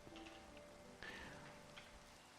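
Steady rain falls in a Minecraft modpack world, a soft continuous hiss with faint scattered drops, heard alone without talk.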